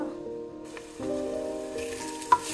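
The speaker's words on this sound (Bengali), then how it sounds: "আদা রসুন পেঁয়াজ এগুলো ভাজতেছি" Ginger, garlic and onion fry in hot oil for chicken biryani, a steady soft sizzle that swells as more goes into the pan, with a faint clink near the end.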